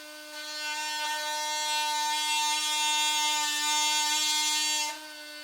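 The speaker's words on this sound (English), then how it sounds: "I have to cut these bottom pieces" A power tool cuts wooden bottom pieces for a bed bench storage build, a single steady high-pitched buzzing whine that starts abruptly, holds for about four and a half seconds, and then cuts off sharply.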